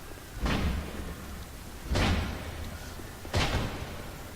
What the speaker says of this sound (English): you can knock this door down